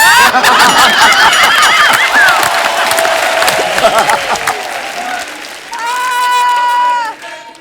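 Studio audience on a comedy talk show bursts into loud, sustained applause and cheering with scattered laughter, while a singing voice and talk carry over the clapping before it fades near the end.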